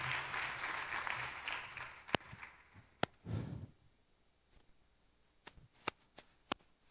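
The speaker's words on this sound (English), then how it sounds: "please give another round of applause for Shane" Conference audience applause for a speaker at a GNU Radio conference, a short burst of clapping that quickly thins out into a few scattered, sharp individual claps in a quiet hall.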